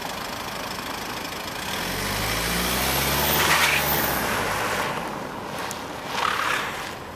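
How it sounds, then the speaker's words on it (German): A Jaguar XF reverses through a slalom course at a driving event, its engine droning at moderate distance and swelling as it passes closer around the middle before easing off, with a brief rise again near the end. "er fährt jetzt rückwärts den Slalom, den wir die ganze Zeit vorwärts gefahren sind."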